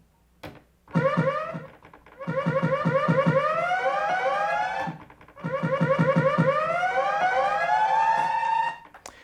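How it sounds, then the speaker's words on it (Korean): A wailing siren sample from a Pioneer DJ DDJ-FLX4 controller plays in three bursts, each rising and falling rapidly with a warbling sweep, loud and electronic, separated by short gaps. "여기 왼쪽에는 1번에 사이렌을 넣어 볼까요?"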